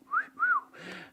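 A man imitates whistling with two rising-falling whistled notes, then a breathy, noisy blow at the end, brief and close.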